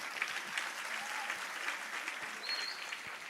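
Steady, moderate applause from an audience at a school Maulid Nabi and Santri Day celebration in a high school hall, a continuous wash of hand claps lasting throughout at fairly even level.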